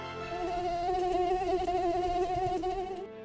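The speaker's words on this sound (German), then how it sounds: "Das Summen von Stechmücken." A thin, high whine of mosquitoes in a room full of about 500 of them hovers close by, wavering slightly in pitch and sustained for a few seconds before cutting off.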